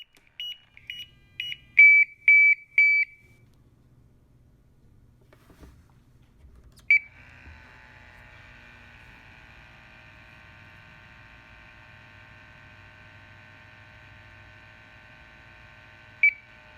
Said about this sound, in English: A change in the audible alarm will signify when you can discontinue blocking the inlet.